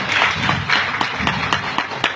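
An audience at a comedy show applauds in a short burst, with clapping that pulses in rough rhythmic waves and sounds close and fairly loud.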